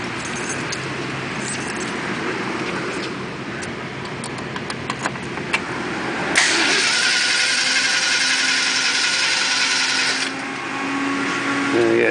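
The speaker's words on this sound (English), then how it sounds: "Let's start it up and see what it sounds like." Keys jingle and click near a 1957 Ford Fairlane 500, then the starter cranks and the engine roars to life, settling into a loud, steady idle with a slight lope.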